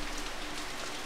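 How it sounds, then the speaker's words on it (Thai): Steady rain falling outdoors, a dense even patter of drops on surfaces that holds constant and fairly soft for the whole moment, with no voices over it. "ได้ยินชัดยังเสียงฝนนะฮะ"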